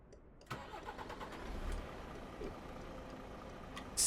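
A team bus engine cranks and catches in Euro Truck Simulator 2 on Greek roads, then settles into a steady mid-pitched idle with faint ticking. A brief sharp click comes at the end, and no one speaks.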